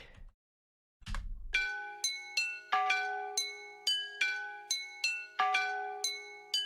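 Glass bottles ring out in a regular rhythm of bright, bell-like struck tones, each clink decaying before the next. The clinks sound close and clear after a brief low thump at the start.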